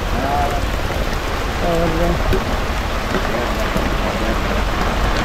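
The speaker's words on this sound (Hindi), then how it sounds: "ये देखिए प्रभु जी के आश्रम में ये बारिश अभी कितनी तेज़ी से आ गई है" Heavy monsoon rain pours steadily at a mountain ashram, a dense, even hiss that fills the whole clip, with a voice speaking briefly over it.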